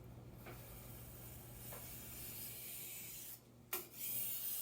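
A knife blade is drawn across a sharpening stone in a few soft, rasping strokes. The strokes are quiet and spaced apart, with a brief scrape near the end and no one talking.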